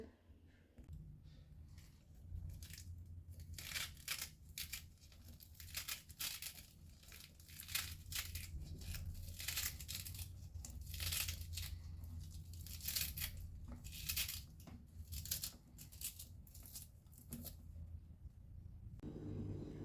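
Turnip, spinach and fenugreek being chopped on a board for a sabzi, a steady run of crisp crunching, tearing cuts lasting nearly twenty seconds, close and moderately loud with no talking.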